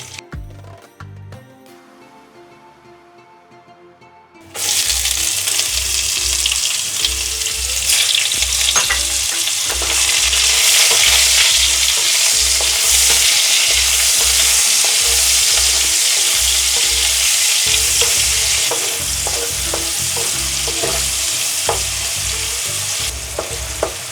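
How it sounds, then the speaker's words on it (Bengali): Chopped onions fry in oil with whole spices in a wok. A quiet stretch gives way to a loud, continuous sizzle, with rhythmic scraping and clatter as the onions are stirred without pause. "পেঁয়াজটা হালকা ভাজা হওয়া পর্যন্ত নাড়তেই থাকবো আমি এইভাবে।"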